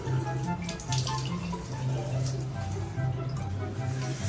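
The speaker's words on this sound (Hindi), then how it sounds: "नलके का पानी होगा।" Tap water runs steadily and close, a continuous hiss and splash during a prank, with people talking over it throughout.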